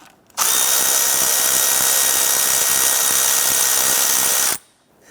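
A power driver whirs loudly and continuously for about four seconds, loosening a hose clamp on the air intake tube at the throttle body of a 1992–1996 Toyota Camry 2.2L four-cylinder, then cuts off abruptly.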